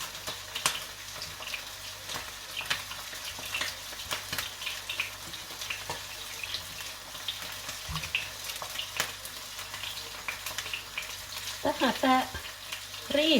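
A steady sizzle of fish frying in a pan with occasional crackles and utensil clinks, close by, continuous throughout.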